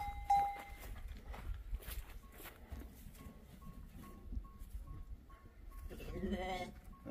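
Sheep bleat during marking and deparasiting on a farm, a few wavering bleats near and far over scuffling hooves and low rustling, with people talking in the background.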